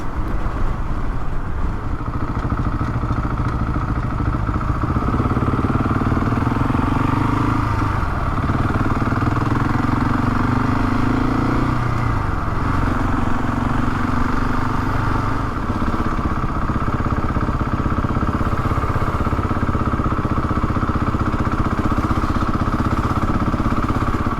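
A Husqvarna 701 or BMW GS Rally motorcycle rides along a road with a loud, steady engine drone and wind rumble, heard close and continuous for the whole stretch, no talk.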